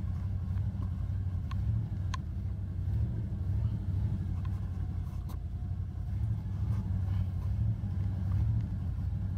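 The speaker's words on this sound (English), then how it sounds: "I keep goosing her a little bit." An old car with little choke sits in minus 19 Celsius cold after a cold start while the throttle is blipped gently. The engine gives a close, steady low rumble with only slight swells, and no one speaks.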